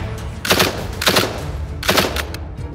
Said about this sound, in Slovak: keď už teda tu z toho strieľam a pálim na nepriateľa, že aký to má dostrel, tento gulomet?